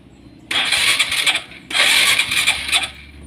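A Supra X 125 motorcycle cranks twice in two bursts lasting about a second each, separated by a short pause. The engine sputters and fails to catch cleanly, loud and close.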